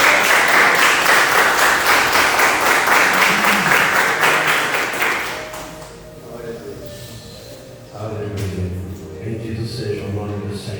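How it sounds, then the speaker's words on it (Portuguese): Church congregation applauding loudly for a pastor at a worship service, dense steady clapping that fades after about five seconds, followed by a voice speaking and music. "Vamos receber o pastor, então, Alexander, com uma salva de palmas para Jesus"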